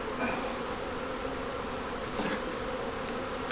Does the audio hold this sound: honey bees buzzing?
yes